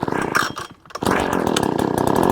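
A Husqvarna 125B or Echo PB-2620 gas leaf blower engine catching after a pull start: a brief sputter, a short gap, then the small two-stroke motor revving up into a loud, steady buzzing drone close by.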